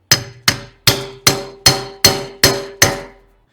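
A hammer pecks a tight-fitting bearing onto a truck part with eight loud, ringing metallic blows at an even pace, close up and without speech.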